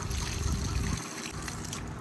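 Water running from an outdoor pipe while cherries are washed, a steady close splashing rush that thins slightly partway through, with no talking.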